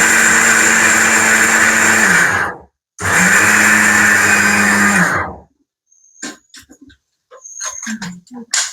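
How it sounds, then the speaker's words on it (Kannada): A mixer grinder whirs loudly in two long bursts with a brief pause between, then cuts off, leaving scattered clinks and faint sounds. "ಅದಿದ್ ಮಿಕ್ಸಿ ಮಾಡ್ಬಿಟ್ಟು ಮಾಮ."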